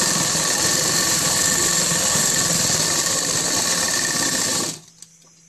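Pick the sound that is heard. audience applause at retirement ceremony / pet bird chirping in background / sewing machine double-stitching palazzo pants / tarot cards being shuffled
sewing machine double-stitching palazzo pants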